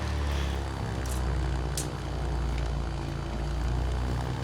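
A propeller airplane roars steadily at full power during takeoff in Microsoft Flight Simulator 2024, a loud continuous engine drone with a low tonal hum and faint wind noise.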